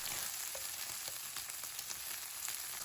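Pork belly sizzles and crackles in a hot pan, a steady frying hiss with scattered pops and spits throughout.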